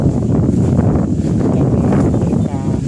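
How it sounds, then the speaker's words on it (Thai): Strong wind blows across grass-overgrown rice fields, producing a dense, loud rumbling roar that buffets the microphone steadily throughout. "ลมแรงเหลือเกิน"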